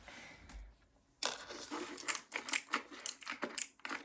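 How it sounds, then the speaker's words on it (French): Clicky keyboard keycaps are pressed in a quick series of crisp, close clicks and clacks with short gaps between them after a brief quiet start. "c'est des touches de clavier. Et en fait, quand tu appuies, ça fait un bruit satisfaisant"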